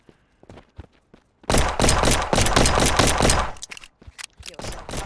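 Video game gunfire in a rapid, loud, close burst of shots lasting about two seconds, followed by a few scattered lighter thuds and pops.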